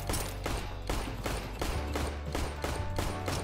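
Gunfire in the video game CS:GO Danger Zone, loud and close, as a run of rapid bursts repeating about every half second in a steady, pulsing pattern, with no talking over it.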